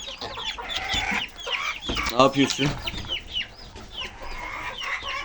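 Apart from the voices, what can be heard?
rooster clucking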